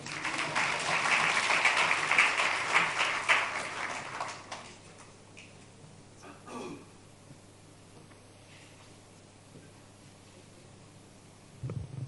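Audience applause at an annual hospitality and tourism conference in Maun, a dense patter of many hands clapping for about four seconds before thinning out into faint room noise and scattered sounds.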